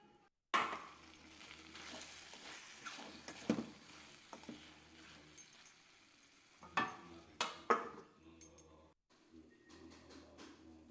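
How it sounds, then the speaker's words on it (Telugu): A spoon stirs aloo methi curry of potatoes and fenugreek leaves in a pan over medium heat, giving intermittent scraping strokes over a soft, close sizzle with short quiet gaps between. "ఇలా మీడియం సైజులో పెట్టుకొని మనం మధ్య మధ్యలో కలుపుకుంటూ ఉండాలి మాడకుండా"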